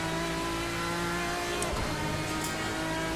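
GT Adonis D9 V12 race car in the Assetto Corsa sim, engine droning steadily at high revs with transmission whine layered in, loud and continuous, no talking.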